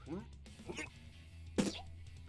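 A voice imitates a Pokémon coughing up a large purple loogie of sludge, a short gurgling throat-clearing hack building into one loud, close, harsh expulsion near the end.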